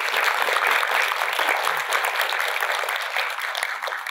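An audience at a practical psychology school event claps to welcome a speaker, dense continuous clapping from a full room, fairly loud and steady, tapering slightly toward the end.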